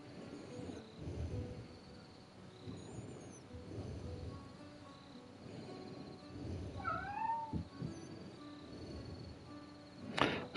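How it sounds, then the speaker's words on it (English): Domestic cat meowing excitedly indoors: several close, rising meows scattered through the clip over quiet background noise and soft clicks. "The cat's just decided that she's going to start meowing and be very excited"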